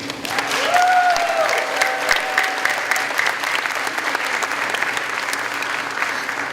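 A convocation audience at Oxford College applauds to welcome Professor Bonney, with steady, dense clapping that fills the whole stretch at an even, sustained level.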